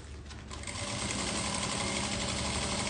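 Sewing machine topstitching a money belt, starting with a few stitches and then running at a fast, steady buzzing whir, loud and close with no talk.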